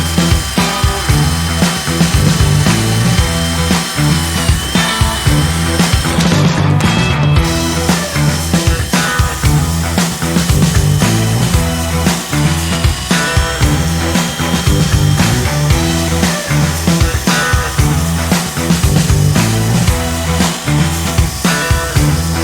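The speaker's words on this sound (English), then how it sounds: "So as soon as I started using this wire wheel" A wire wheel grinds steadily over a 1979 Dana 60 axle being prepped, a loud, continuous whirring rasp that runs throughout without pause.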